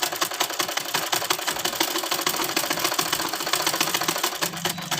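A sewing machine runs continuously, stitching along the edges of a salwar belt. It gives a fast, even mechanical chatter of needle strikes, close and steady throughout with a slight rise near the end.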